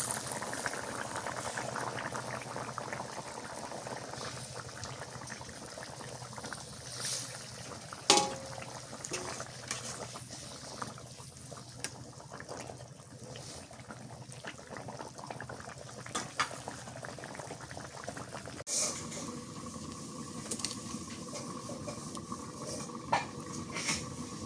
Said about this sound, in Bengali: তরকারি বলে উঠে গেছে, এবার মাছ দিয়ে দিই